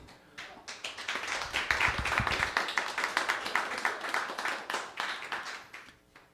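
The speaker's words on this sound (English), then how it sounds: "Please extend that applause warmly for your host, Mr. Mike Derbecker." Audience members at an open mic story night clap steadily at close range, a dense, even patter of hands that builds and then tapers off near the end.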